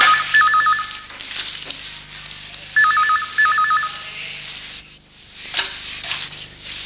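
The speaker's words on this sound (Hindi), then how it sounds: "देखो जरा किसका फोन।" A telephone rings in repeated electronic trills, loud and close, with a short pause between bursts and faint room noise after.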